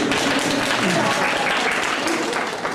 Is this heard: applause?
yes